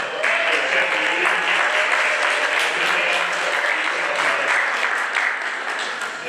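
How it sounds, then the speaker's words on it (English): Warm, steady applause from the audience at a mushroom cooking demo for Chef Reid Trapani, a dense round of clapping lasting about six seconds with faint voices mixed in. "Everybody give one more round of applause for Chef Reid."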